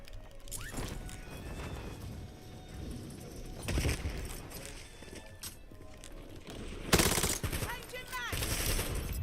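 Bursts of automatic gunfire and scattered shots from Call of Duty: Black Ops 7 crackle through a busy battle, with a heavy loud volley late on, footsteps and mechanical clatter between the shots.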